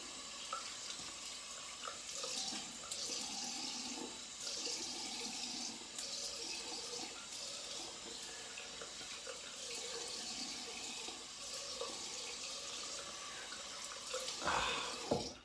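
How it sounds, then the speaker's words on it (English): Steady hiss of water running from a tap, continuous and fairly close, with faint splashing and a brief louder gush near the end. "Cold water rinse."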